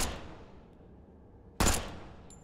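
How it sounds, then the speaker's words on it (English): A burst-mode pistol in the video game Arcticide fires two short, sharp bursts about a second and a half apart, each one loud and crisp with a brief fading tail. "Oh god, it's like a burst mode pistol."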